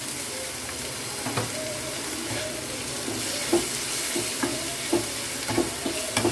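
Onion paste frying in a pan for mutton-stuffed potol dolma, a continuous sizzle broken by repeated light scraping stirs that grow more frequent toward the end.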